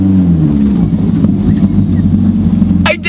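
An 800 HP Evo with a twin-disc clutch pulls away slowly in reverse, a loud, close, low engine rumble holding steady for about three seconds with a short higher burst at the end.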